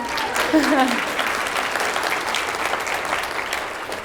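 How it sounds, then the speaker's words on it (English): Loud, sustained applause from an audience at a brand and events business gathering, a dense wash of clapping with a voice briefly heard near the start. "I definitely want to give a round of applause to all of my ladies that came out."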